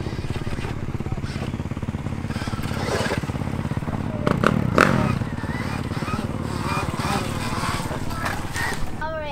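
A Stark Varg electric motocross bike rides close by with a continuous motor whir and rattling, rising briefly in the middle, while people talk over it.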